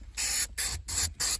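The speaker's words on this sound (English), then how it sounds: "So we're just gonna spray here." Four short, sharp hissing bursts from an aerosol can of spray adhesive, each lasting a fraction of a second with brief gaps between, close and fairly loud.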